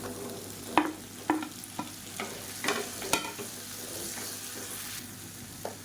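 Onion and tomato fry in a pan for a chutney while a spoon stirs them, giving a steady sizzle broken by a series of sharp scraping strokes against the metal.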